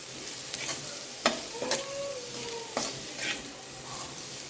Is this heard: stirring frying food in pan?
yes